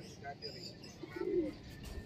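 Pigeons coo softly in a backyard loft, a brief low murmuring call near the middle, with faint background sounds and a little human voice around it.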